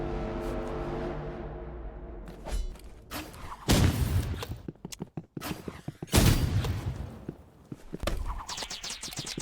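Rapid bursts of gunfire and heavy thumping shots in a video game duel involving a flare gun, loud and close, arriving in clustered volleys with short gaps between them.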